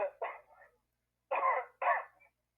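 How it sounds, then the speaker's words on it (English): Two pairs of short, harsh coughs, close and loud, separated by a brief silence. "Oh, you're coughing."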